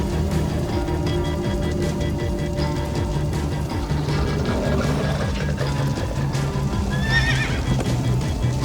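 Horse in the Minecraft: Story Mode video game neighing amid rhythmic galloping hoofbeats over a steady, loud game soundscape, with a clear whinny rising near the end.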